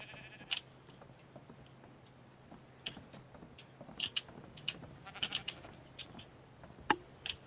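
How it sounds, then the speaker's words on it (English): Several short, faint video game sheep bleats pop up at irregular intervals over a quiet background, with a few light ticking clicks between them. "I like this sheep with the blue horns."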